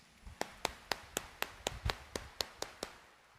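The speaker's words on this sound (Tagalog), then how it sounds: "itaas ang kamay at pumalakpak ng mas malakas" A church congregation at a Quiapo Church Mass claps hands in about ten sharp, evenly spaced claps. The claps are fairly faint and slightly distant, with no talk over them.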